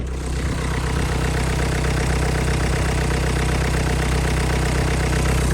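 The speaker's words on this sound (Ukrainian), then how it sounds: "Зараз покажу вам двигунчика." An engine idling close by, a steady rumbling drone with a rapid, even pulse throughout.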